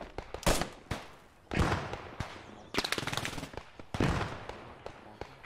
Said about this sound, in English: we got an MG over here, south